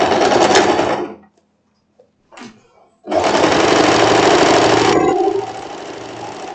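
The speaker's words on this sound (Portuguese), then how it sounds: "agora eu vou voltar minha máquina aqui pro normal e eu vou costurar aquela outra parte da manga do elástico" A home sewing machine runs fast, close and loud, stitching the elastic sleeve of a floral wrap dress in steady bursts separated by a short pause and a few handling clicks.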